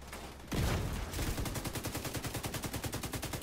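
Gunfire in the video game The Division 2: a sharp opening shot, then a sustained rapid automatic burst with an even, fast rhythm, loud and close, with no talk.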